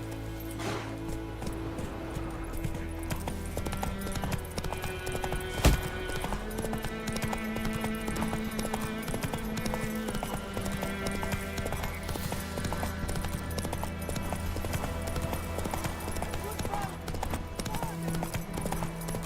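A horse gallops in The Witcher 3, its hooves a steady, rapid clip-clop kept up throughout under a constant bed of game music and ambience, with one brief louder knock partway through.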